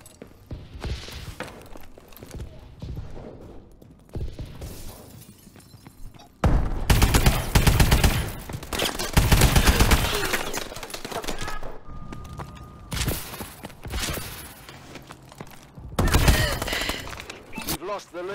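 An AE4 gun fires in a video game in rapid, loud automatic bursts, several volleys spaced across the stretch with quieter gaps, while someone talks over the shooting.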